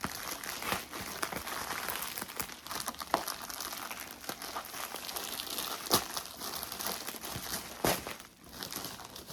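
A parcel being opened and unwrapped, with continuous crinkling and crumpling of packaging and occasional sharper tearing snaps, close and fairly quiet, with no talking.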